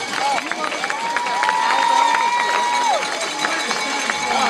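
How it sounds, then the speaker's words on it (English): Wedding reception guests applaud and cheer for the maid of honor, a steady crowd roar with clapping and a sustained whoop over the top, loud and continuous throughout. "So yes, keep that round of applause going."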